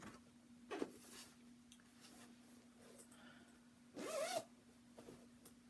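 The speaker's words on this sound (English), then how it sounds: "Zip." A clothing zipper being zipped, two quick rasping pulls up close, quiet against a faint steady hum, with no voices.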